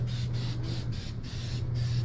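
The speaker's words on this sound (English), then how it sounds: "just go ahead and spray on over here" Tacky spray adhesive hisses out of an aerosol can as a fine mist in steady, continuous spraying, close and fairly loud, with faint rhythmic pulses throughout and no talking.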